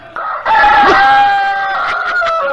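A rooster crows loudly and close by in a single drawn-out cock-a-doodle-doo that rises, holds and trails off, with no voices over it.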